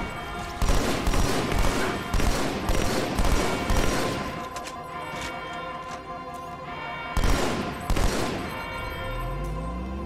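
Rapid plasma turret fire in Halo, a loud, dense volley of bursts that rolls on continuously, with two heavier blasts near the end and a low rumbling tail.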